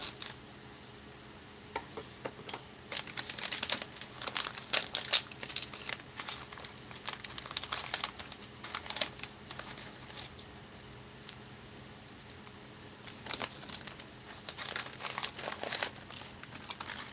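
A plastic First Strike ration pouch of barbecue corn nuggets is cut open and handled, producing close, quiet bursts of crinkling and rustling film that come and go in irregular clusters, with no talking.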